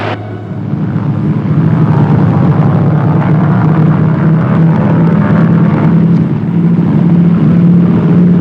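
A loud, continuous engine drone of an airplane, steady and close, with a low humming pulse throughout and no voices.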